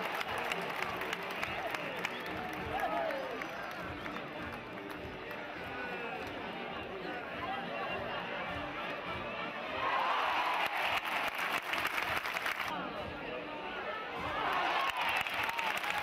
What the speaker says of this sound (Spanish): Ovación también de gala para el extremeño.